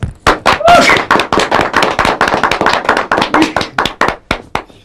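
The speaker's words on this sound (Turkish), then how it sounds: "Alkışlayalım." Applause at a civil wedding ceremony in Kayseri, right after the couple say yes: a crowd of hands clapping in quick, uneven bursts, close and loud, with a brief voice near the start.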